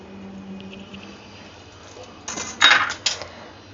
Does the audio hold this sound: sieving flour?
yes